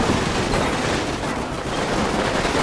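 Gunfire pours onto infantry in a building in the World War II wargame Combat Mission: Final Blitzkrieg: a dense, continuous barrage of overlapping shots and bursts, loud and unbroken across the whole stretch.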